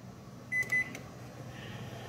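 A Panasonic microwave oven with an H97 magnetron fault starts briefly, giving a couple of short electronic beeps over a faint, steady hum.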